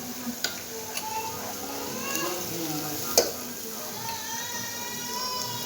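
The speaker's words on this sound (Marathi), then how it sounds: "लसूण चांगलं लालसर भाजलेलं आहे यामध्ये हळद घालू थोडीशी" Garlic and green chillies fry in a hot pan as turmeric is added, giving a steady, continuous sizzle with occasional stirring clinks and taps throughout.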